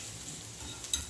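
Onions fry in a pan with a steady, close sizzle and light stirring scrapes, ending in a brief sharper clatter as jackfruit nachos are being prepared.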